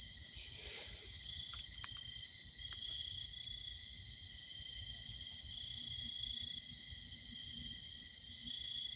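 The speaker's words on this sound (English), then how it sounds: "I love hearing the crickets." Crickets chirp continuously at a campsite in a steady, high-pitched chorus, with a few faint clicks and soft background rustle.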